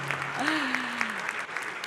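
An audience claps for OpenAI CEO Sam Altman, soft steady applause at a moderate distance, with a voice speaking over it near the start.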